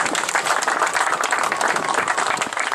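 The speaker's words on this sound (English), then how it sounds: "How about a big round of applause for everybody?" A crowd at a long drive golf event claps in a dense, steady round of applause lasting a few seconds, close and fairly loud with no voices over it.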